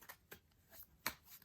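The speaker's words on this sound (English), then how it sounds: "So let's shuffle up." A deck of trading cards is shuffled by hand in a few quick, quiet riffling bursts, one sharper snap standing out near the end, in a quiet room with no talk.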